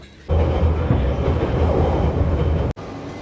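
A train rumbles loudly and steadily close by, with wheels clattering on the rails for under three seconds before the sound cuts off abruptly.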